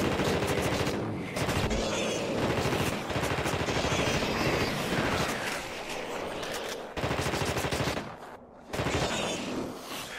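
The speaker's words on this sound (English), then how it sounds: "When I release, it makes the sound of a gunshot, which is really unusual" Bursts of gunfire in a video game based on The Thing, loud rapid shots in long clusters broken by brief pauses, with no talking.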